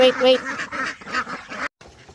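Pekin ducks quack in quick, close, nasal bursts, several calls overlapping in a busy run before a brief pause.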